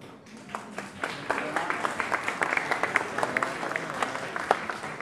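Steady audience applause with distinct individual claps standing out, moderately loud and continuous, rising shortly after the start and carrying on.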